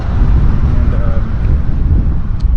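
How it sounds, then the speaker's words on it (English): Wind blowing outdoors on a walk through Hawesville, Kentucky, a steady loud rush buffeting the microphone throughout with no pauses. "it's a little windy today"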